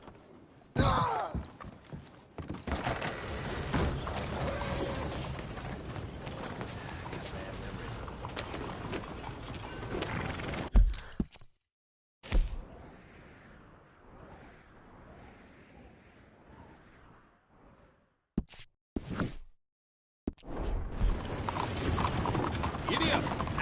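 A horse gallops in Red Dead Redemption 2 with rapid, rhythmic hoofbeats close by, stopping partway through, then resuming, with brief voices and a whinny in the game.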